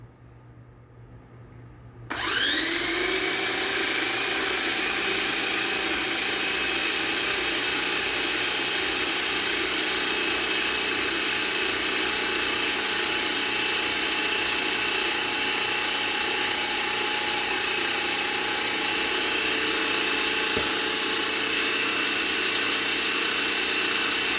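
A single food processor whirs to life and runs steadily, blending homemade basil pistachio pesto with a loud, constant motor whine and grinding that holds unbroken until the end.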